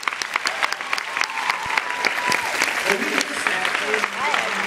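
A church congregation claps steadily in sustained applause, a dense patter of many hands with voices and a speaker's talk woven through it.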